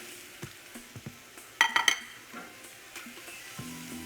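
Ground beef hitting a pan of cooked onion, a soft sizzle under a few light knocks and a sharp clatter of utensil against the pan midway, fairly quiet with no talk.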